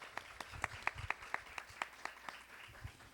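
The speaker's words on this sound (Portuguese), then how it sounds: "Uma salva de palmas para a Sheila." Faint, sparse applause from a small audience at an architecture talk event, distinct individual claps in a loose, slightly uneven rhythm, with a few louder handclaps standing out.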